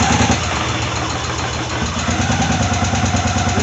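A Victory motorcycle engine settles into a steady idle with a fast ticking of lifter noise running through a rough, even rumble, close and loud with no voices.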